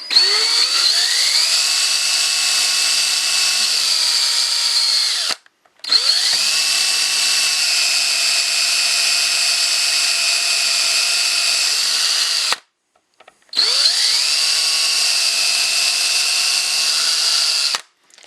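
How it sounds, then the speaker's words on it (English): A power drill with an eighth-inch bit, drilling wooden chair feet, runs in three long bursts, each spinning up to a high steady whine before cutting off, with brief pauses between them. "I'll take an 1/8 inch drill bit"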